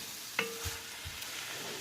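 Shrimp sautéing for gumbo in a pan on medium-high heat, a soft steady sizzle with a sharp clink of utensil against pan and a few low stirring scrapes, close and quiet.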